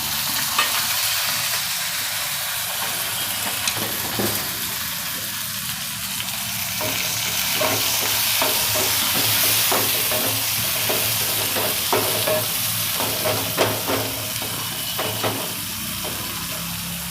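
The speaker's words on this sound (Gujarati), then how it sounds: "ટમેટા નાખીશું" Chopped tomatoes hit a pan of lightly cooked garlic for a Gujarati tomato-methi dish, giving a loud steady sizzle and frying hiss with occasional scraping stirs throughout.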